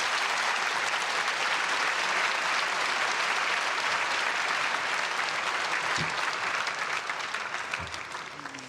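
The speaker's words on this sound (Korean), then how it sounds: "목사님 나오실 때 큰 박수로 환영하겠습니다." A church congregation welcomes a pastor with sustained loud applause, a dense, even roar of many hands clapping that tapers off slightly toward the end.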